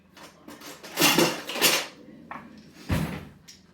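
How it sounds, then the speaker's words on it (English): Paring knife being pulled out from among kitchen utensils, with several loud metallic clatters and clinks of cutlery and pans, close by, in irregular bursts. "let me get one of my little paring knives out"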